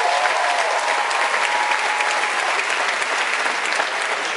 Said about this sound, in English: having a big round of applause for the gentlemen